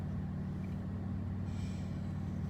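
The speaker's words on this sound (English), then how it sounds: "I get tired of this loud exhaust all the time" A car with a loud aftermarket-style exhaust drones steadily from inside the vehicle, a constant deep low rumble that stays even and close for the whole stretch.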